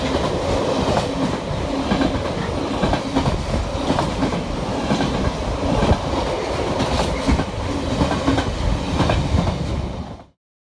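A train rolls past close by, loud and sustained, with rhythmic clickety-clack of wheels over rail joints before cutting off abruptly.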